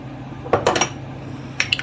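A utensil clinks and scrapes against a bowl while shrimp burger mixture is stirred with a little lemon juice, a few sharp close knocks in two short clusters over a quiet background.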